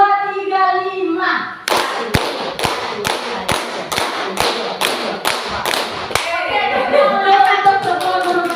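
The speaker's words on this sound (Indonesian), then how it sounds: "Ulang, tepuk 2, 3, 5." A group of teachers claps a rhythmic 2-3-5 pattern, crisp near hand claps in distinct grouped bursts, with a spoken voice before and after the clapping.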